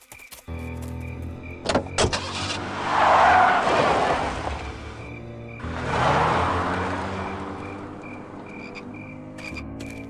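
A car drives in the adventure video game Full Throttle, with two swelling engine and tire sweeps passing a few seconds apart over a faint electronic hum, with scattered clicks around them.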